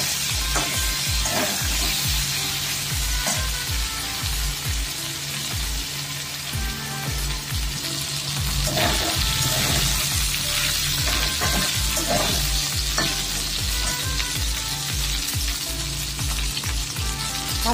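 Diced potatoes fry in oil with a spoonful of ginger-cumin paste for a paneer-potato vegetarian dish, sizzling steadily and loudly throughout, with repeated scraping and clattering stirs of a spatula against the pan.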